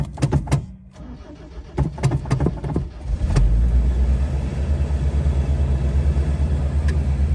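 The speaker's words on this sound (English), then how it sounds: "I'm gonna go ahead and turn the starter over and see if maybe it fires" A 1977 Toyota Hilux, left sitting for 20 years, gives a series of sharp clicks and a short crank before the engine catches. It then settles into a loud, steady idle rumble close by.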